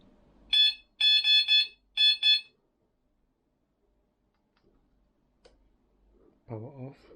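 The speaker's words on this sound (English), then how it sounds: "So we test the horn sound." Horn of a Sealup XLP-Q8 electric scooter beeps in three short bursts, the middle one a quick triple, loud and close, followed by silence and a brief voice at the end.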